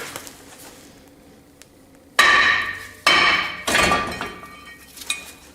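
Three loud metallic whacks on the rear brake rotor of a 1994–2004 Jeep Grand Cherokee, each a sharp clanging hit that rings and fades, spaced about a second apart.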